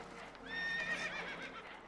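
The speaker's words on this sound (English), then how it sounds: "Horses are spooked, and we're taking on water." Spooked horses whinny in Red Dead Redemption 2, a single near neigh lasting about a second and rising over a steady low background rumble.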